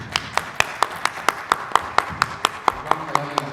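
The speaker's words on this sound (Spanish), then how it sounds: "Vamos a darle un aplauso" A seminar audience in a university auditorium claps in a steady, even rhythm, about four claps per second, sharp and close, with a faint murmur of voices underneath.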